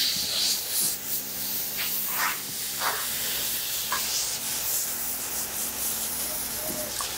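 Water hose spray hisses steadily against a horse's coat during a wash, a continuous rushing with a few brief splashy surges, close and moderately loud.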